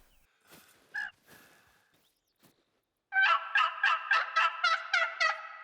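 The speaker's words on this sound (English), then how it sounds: "I was close enough to hear the turkeys making their own calls." Wild turkeys out in the hunting woods: a few faint, scattered calls come first, then after a quiet gap a loud, rapid, rattling gobble of about eight quick pulses rings out nearby.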